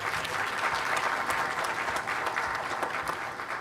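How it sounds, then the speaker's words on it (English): Audience at a Kenya School of Government centenary session gives hearty, sustained applause, a thick continuous wash of clapping with no talk over it. "let us give him another hearty clap"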